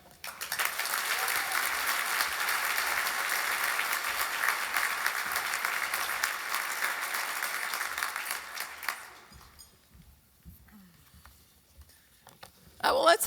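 An audience at a Boys & Girls Club of Greater Manchester charity breakfast gives the Governor, Kelly Ayotte, dense sustained applause for about nine seconds. It then fades to scattered claps and a quiet room.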